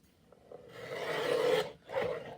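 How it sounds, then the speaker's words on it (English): Scissors cutting half-inch paper strips for a glue book, two close, soft rasping snips with a short gap between them. "we're just gonna cut actually 3 half-inch strips"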